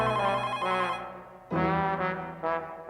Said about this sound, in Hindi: माधवी एक मिनट, सुनो बेटा, जरा तुम फोन उठाना।